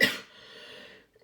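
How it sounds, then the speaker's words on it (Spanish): A single sharp cough bursts out close and loud from a teacher during a math class, trailing into a short breathy rasp before quiet. "me entra la tos"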